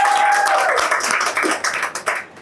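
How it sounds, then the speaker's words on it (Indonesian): Audience applause in a crowded hall at an Indonesian talk event, a dense wash of clapping that stays steady before thinning out a little, with a faint voice trailing off at the start. "tepuk tangan."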